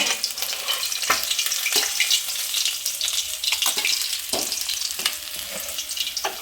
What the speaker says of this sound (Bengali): আর বাকি মাছগুলো এইভাবে আমি ভাজতে দিয়ে দেব।